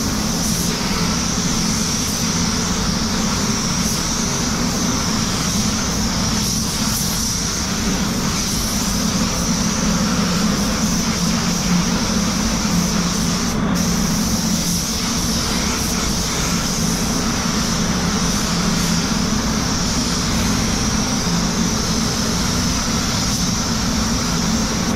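A spray gun paints an Audi A3 panel, a steady, loud hissing airflow that runs unbroken throughout, with a constant low compressor-like drone beneath it.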